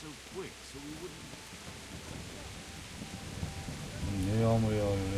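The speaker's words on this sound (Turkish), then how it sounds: "Ne yağmur yağıyor yalnız var ya." Rain falls steadily, with low rumbling thunder building toward the end, in the medieval video game Kingdom Come. Voices talk over the storm, which stays moderately loud underneath.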